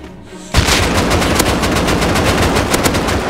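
A fully automatic Python revolver in the video game Rust fires a rapid, loud burst of shots in steady succession, close and dense, continuing for about three seconds after a brief quiet start.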